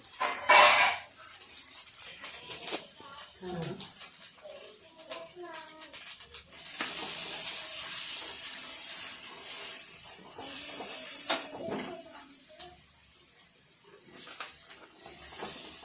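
Masala of ginger-garlic paste and garam masala sizzles and hisses in oil in a clay pot for fish curry, with a steady close frying hiss, a few utensil scrapes and clinks, and a voice talking intermittently over it.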